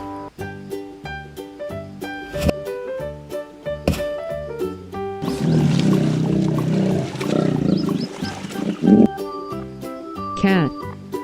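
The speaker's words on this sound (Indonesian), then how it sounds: "Hippopotamus." A hippopotamus gives a loud, deep wild-animal roar with grunting, rumbling bursts over several seconds, set among other animal sounds.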